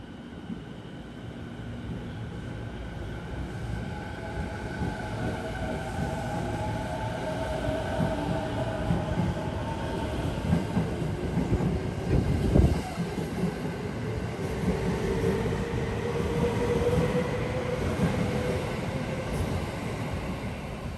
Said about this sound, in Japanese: 電車のお見送りをしましょう。